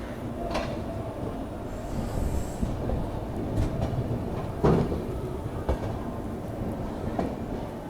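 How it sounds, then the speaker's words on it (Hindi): A Duronto Express train pulls out of Jasidih Junction, heard from inside a sleeper coach as a steady rumble of wheels on rail with scattered clacks and metallic knocks as it gathers pace. "चलिए 2 मिनट हॉल्ट के बाद डिपार्चर हो चुका जसीडी जंक्शन रेलवे स्टेशन से।"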